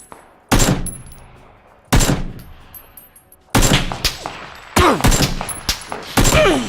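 Gunfire in PUBG in a swamp temple area: five separate loud shots or short bursts arrive at irregular intervals, each one sharp and ringing briefly before the next.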